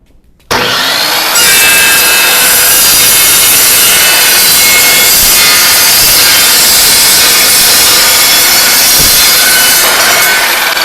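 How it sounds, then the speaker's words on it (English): A power saw cuts quickly through clamped metal stock during welding prep, a loud continuous harsh grinding roar starting abruptly after a brief quiet moment and running steadily to the end, close up with no talk. "So as you saw there, that saw cut very quick."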